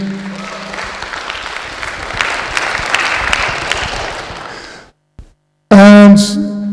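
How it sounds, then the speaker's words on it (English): A Dutch Manga Awards audience applauds a nominee with dense, sustained clapping for about five seconds, which cuts off abruptly and is followed by a brief loud tonal sound. "So one big round of applause,"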